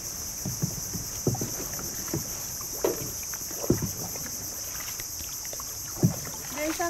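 A small boat or canoe moves on water through a Palawan mangrove forest, with soft knocks and splashes at intervals over a steady wind hiss and a high insect-like drone; someone speaks briefly.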